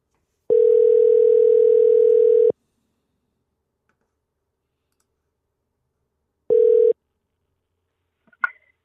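A phone call to a state senator's office rings out as one long steady tone and then a short second tone, followed by a brief click, with near-silence between.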